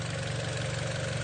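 A Mitsubishi Lancer Evolution 10 with a 2-liter turbo engine idles steadily with the bonnet open, a close, constant low hum and mechanical drone with no other sounds.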